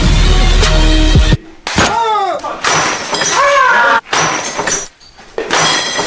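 Light bulbs are smashed in a rage room, with sharp bursts of breaking and shattering glass amid loud, excited voices talking and reacting between the crashes.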